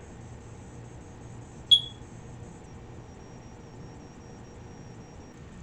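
A household smoke detector gives a single short, sharp chirp partway through, standing out alone against a near-silent room with a low steady hum.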